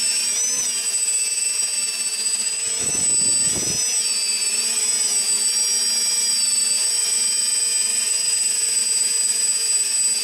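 Ares V-Hawk RC plane electric motors whine steadily at high pitch with layered tonal harmonics, close and constant throughout, with a brief low rumble of buffeting partway in.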